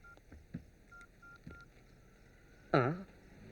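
Telephone number dialed on a phone in a Tamil film scene: a string of short, evenly spaced keypad tones, moderately faint, followed by a louder burst near the end, with no talk.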